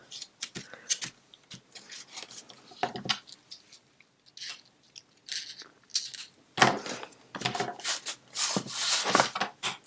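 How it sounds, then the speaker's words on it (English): A bone folder rubs and scrapes over strong tape to press it down, the soft dry scraping strokes coming in irregular bursts with quiet gaps, growing denser and louder toward the end. "I'm going to burnish this tape down with my bone folder."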